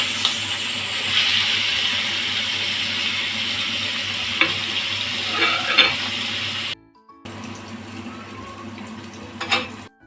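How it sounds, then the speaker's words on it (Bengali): Chopped onions sizzle and crackle in hot oil left from frying potatoes for a home-style biryani, a steady loud frying hiss with occasional stirring, dropping briefly before the sizzle resumes more quietly. "আলু ভাজার ওই তেলের মধ্যে পেঁয়াজ কুচিগুলো দিয়ে ভালো করে ভেজে নেব"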